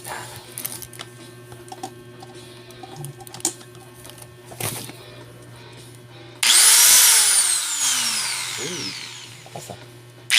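A new Lotus power drill, just unboxed, starts up partway through and runs loud and steady with a bright whine after a stretch of quiet room noise.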